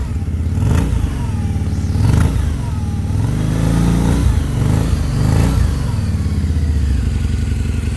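A fuel-injected 2004 Harley-Davidson V-Rod engine is revved hard a few times, loud and close, the throttle rising and falling in surges over a rumbling idle.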